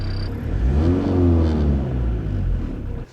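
Peugeot 504 engine pulling steadily while driving, a loud, continuous rumble with a rising and falling rev note, close by with no talk.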